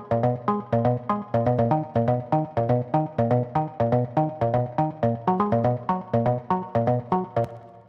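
A bright synth pluck patch built in Xfer Serum, modeled on the pluck from a track, plays a steady melodic pattern of short, evenly spaced notes with quick decays, loud and alone with no talking.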